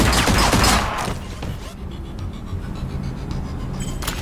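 Gunfire from the tactical game ShowGunners in its Security Breach DLC, with a loud, close volley of rapid shots up front that drops to a quieter rumble with scattered faint thuds, and no talking.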